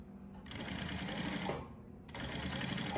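A sewing machine stitches a cargo pocket in two close, rapid bursts of stitching, with a brief pause between them for pivoting at the corner.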